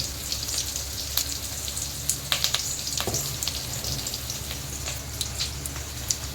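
Ground masala for a dried-fish kuzhambu frying in a pan over high flame, a dense continuous sizzle with scattered crackling pops, close and steady throughout, with no talking.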